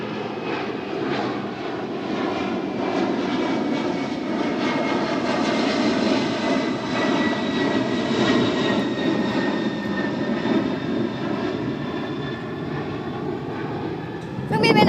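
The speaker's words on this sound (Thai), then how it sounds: "เครื่องบินมาอีกแล้ว" A propeller airplane drones steadily overhead, loud and sustained with a smooth pitch shift as it passes.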